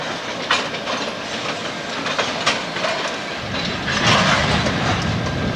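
Norfolk Southern freight train rolling into a rail yard siding at Northumberland, with a steady rumble and rhythmic clickety-clack of wheels that grows a little louder toward the end, no talking.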